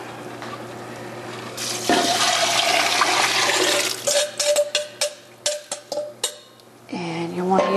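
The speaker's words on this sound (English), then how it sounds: "We're going to add the broth" Broth is poured into a flour roux for soup, giving a steady splashing gush for a few seconds that breaks into uneven sloshes and trickles, close and fairly loud in a kitchen.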